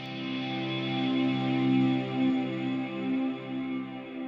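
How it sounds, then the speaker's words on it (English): Sustained guitar chords wash through an ambient reverb setting on a guitar amp modeler, with long shimmering tails that swell and blend into one another, loud and spacious with no voices. "this kind of reverb here, this is really nice"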